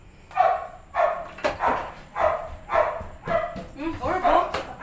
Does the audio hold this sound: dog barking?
yes